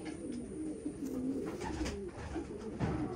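White grizzle racing pigeons coo in a home loft, several soft throaty rolling calls repeating close by over low background noise.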